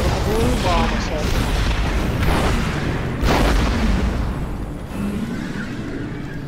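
Heavy explosions from a bomb assault in the strategy game Command & Conquer Red Alert 3 Uprising, deep booming blasts rolling one after another over dense battle noise, with a voice talking over them.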